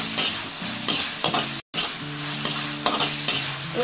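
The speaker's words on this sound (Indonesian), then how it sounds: "Tumis-tumis hingga harum ya, atau berubah warna." Garlic sautés in a hot wok for a broccoli dish, a steady sizzle broken by repeated scraping stirs of a spatula, with a brief gap midway.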